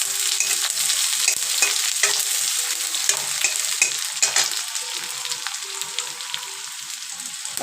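Chopped garlic and onion frying in hot oil in a pan, a steady crackling sizzle broken by frequent close spatula stirs and scrapes, with no talk.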